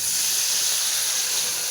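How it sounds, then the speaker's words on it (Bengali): Water poured into a pan of frying turmeric, chili and coriander powder gives off a loud, steady steam hiss that holds evenly for a couple of seconds. "আমি এদিকে পানি দিব আর একটু কষানোর জন্য"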